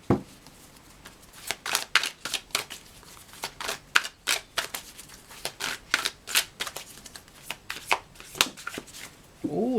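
Atlas Oracle cards shuffled by hand, a rapid run of crisp riffling bursts close up that repeats steadily for several seconds.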